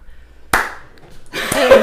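A small group of people claps in a studio setting, a sharp opening clap followed by a short burst of scattered applause, fairly close and loud.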